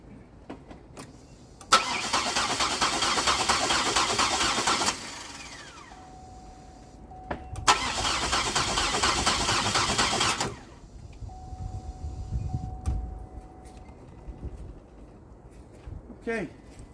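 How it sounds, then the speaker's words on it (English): GM 3800 V6 engine, recovering from coolant ingress, cranked on the starter in two long bursts of about three seconds each without firing, loud and close, with quiet gaps and a voice talking in between. "just gonna give it a few cranks to clean out the front 3 cylinders"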